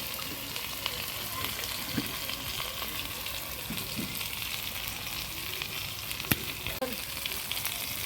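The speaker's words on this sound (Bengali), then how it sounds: "আলুগুলো একটু ভাজা ভাজা করে আমি শাকগুলো দিয়ে দেবো" Potatoes and leafy greens frying in a pan, a continuous even sizzle with occasional stirring clicks and scrapes, steady and close, with no talk.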